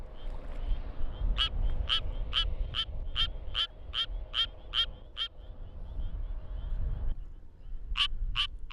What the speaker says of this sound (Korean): 드디어 수원 청개구리의 노래가 시작됐다.